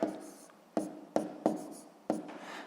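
A pen scratches across paper by hand while working a maths exercise, in short, close, faint strokes that start sharply and trail off, about five in a row with brief pauses, no voices.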